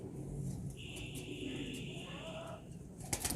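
A female pigeon being shown off, with a steady, fairly loud high-pitched tonal call held for about two seconds over low rumbling background noise, then a brief clatter at the end.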